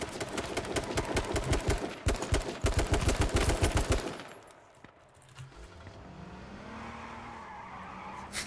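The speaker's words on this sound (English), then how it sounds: "Obviously the shooting's on my left." Rapid automatic gunfire in H1Z1 King of the Kill, a loud rattling burst lasting about four seconds, then cutting out to quieter rumbling vehicle and ambient noise.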